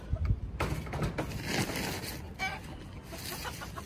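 Plymouth Rock hens cluck and murmur inside a henhouse, close and fairly quiet, mixed with rustling, scraping and handling noises as someone works nearby.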